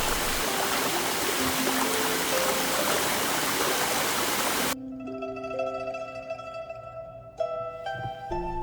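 Mon Da waterfall at a Thai Buddhist temple, a steady, dense rush of falling water that cuts off abruptly partway through, giving way to quieter tonal sounds.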